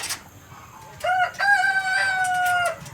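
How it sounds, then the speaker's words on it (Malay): A flock of Red Sussex cross and Barred Plymouth Rock chickens clucks softly before a rooster gives a loud, drawn-out crow close by, with more clucking around it. "Ni ayam cross Red Sussex dengan Red Sussex jantan dan betina BPR"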